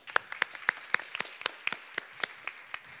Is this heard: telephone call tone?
no